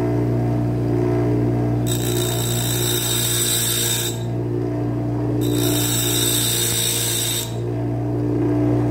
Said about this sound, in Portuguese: Pegando então o nosso esmeril. E eu começarei trabalhando aqui na pedra grossa.